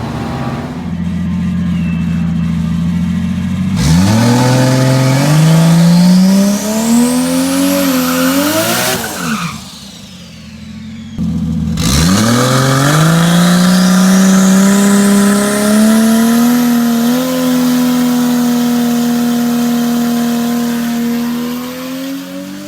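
A drag car with a TH400 automatic transmission launches and accelerates hard down the strip, engine revving up through a shift, a brief drop, then pulling loud and close again for the rest of the run.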